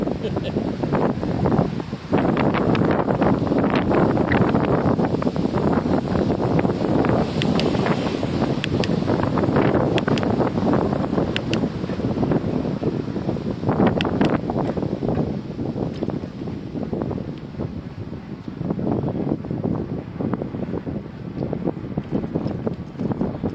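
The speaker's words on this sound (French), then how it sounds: "Toujours dans le vent." Wind rushes and thumps against the microphone while riding a Cyrusher Grace e-bike on windy streets, a loud, gusting roar that swells and drops in uneven waves throughout.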